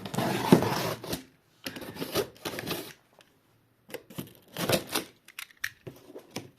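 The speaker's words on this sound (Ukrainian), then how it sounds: "Так що така коробка, зараз ми її відкриємо." A cardboard shipping box holding electronics circuit boards is opened by hand, with bursts of tearing, rubbing and rustling cardboard and tape separated by short pauses, close and fairly loud, no talking.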